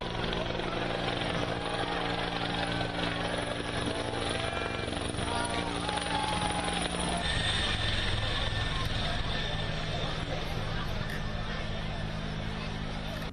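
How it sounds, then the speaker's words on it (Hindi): A helicopter passes over the Sangam during the Maha Kumbh bathing festival at Prayagraj, its steady rotor drone continuous under a loud, constant crowd hubbub. "हेलीकॉप्टर से संतों और श्रद्धालुओं पर फूलों की वर्षा की गई"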